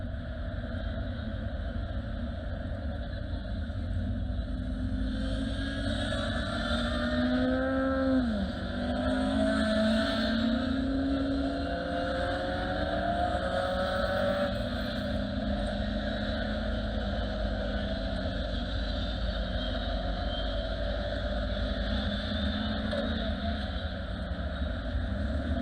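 Race cars run in a pack behind the safety car at Cadwell Park in Lincolnshire, their engines droning at steady moderate revs with rising and falling whines as they circulate, alone without speech.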